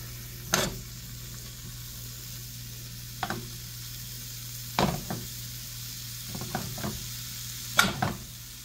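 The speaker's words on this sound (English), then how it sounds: "So I just want to get a little color on the sausages before I add the vegetables in." Sausages fry in a pan with a soft, steady sizzle, broken by several sharp clacks and scrapes as they are stirred and turned at intervals.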